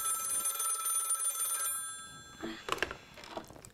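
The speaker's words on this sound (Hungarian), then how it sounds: "És csöng a telefon" A telephone bell rings repeatedly in a detective's office in a cartoon, a steady bright trill lasting under two seconds before a voice begins talking.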